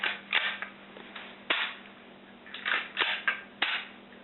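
A Remington 552 rifle's hammer drops during a function check, giving several sharp, dry mechanical clicks, close and fairly quiet, spaced irregularly over a few seconds with light handling noise between.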